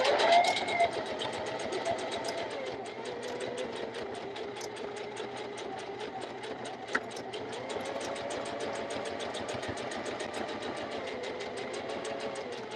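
A sewing machine set to tension 3 with the needle centered runs steadily, its rapid, even mechanical stitching chatter carrying for several seconds, close and moderately loud, with a faint voice near the start.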